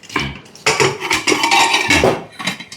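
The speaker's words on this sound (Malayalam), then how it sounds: "ഇത്ര മനോഹരമായിട്ടാണ് ഞാൻ കുക്കർ അടയ്ക്കുന്നത്" A pressure cooker lid is closed with a few sharp metallic clanks and scrapes of metal on metal, loud and close in quick succession.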